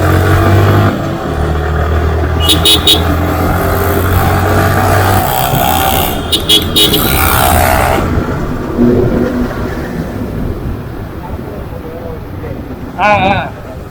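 A Royal Enfield GT650 motorcycle rides along with a steady engine drone under heavy wind buffeting, while a rider talks over it.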